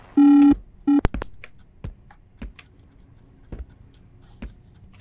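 A telephone handset left off the hook gives a steady electronic tone, loud at first and then again briefly, followed by scattered clicks and taps from the phone and room, with no talk.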